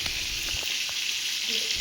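Onions fry in oil in a pot for Hyderabad-style chicken biryani, giving a steady, close, continuous sizzle with no voices.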